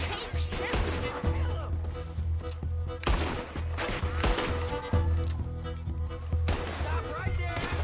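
Gunfire in the Western action game Red Dead Redemption 2, with repeated shots and crashes of a firefight mixed with game sounds and characters talking over it.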